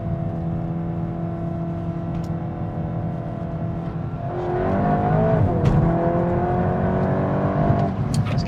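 A VW Golf GTI Clubsport 45 turbo engine hums steadily from inside the cabin, then surges as the throttle opens, rising into a stronger climbing drone with some turbo whoosh.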